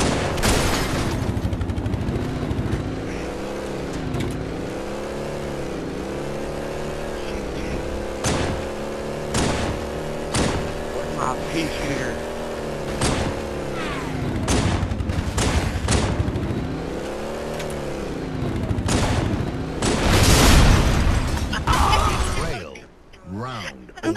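Repeated bursts of gunfire while shooting in Halo 2, loud rapid shots and impacts that keep recurring over a whirring vehicle-like drone, with occasional shouting mixed in.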